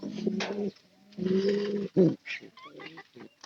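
Pigeons in a nest box giving low, rolling coos in two long phrases and a few shorter calls, close and clear with no talking over them.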